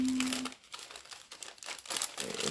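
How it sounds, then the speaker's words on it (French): Crinkly peeling and crackling as tape is pulled off a surface, with short tearing rustles over a couple of seconds, close up and fairly quiet. "Je vais enlever le scotch là"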